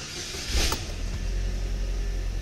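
A Chevy Malibu with a faulty camshaft sensor cranks briefly and catches, then settles into a steady low idle rumble, heard up close with no talking.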